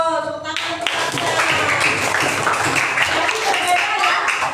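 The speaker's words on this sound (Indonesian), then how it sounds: "Tepuk tangan untuk Tasya" Schoolchildren in a third-grade classroom clap for a classmate, a brisk burst of many small hands starting just after a brief voice and continuing steadily, with faint chatter underneath.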